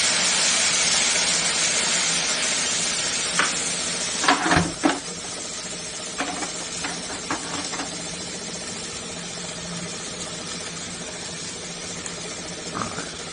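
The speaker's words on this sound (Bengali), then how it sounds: "ভাজতে দিয়ে দিলাম" Fish fries in oil with cumin and green chillies, a loud hiss that starts strong and then settles lower, with several sharp spatters and utensil clinks scattered through.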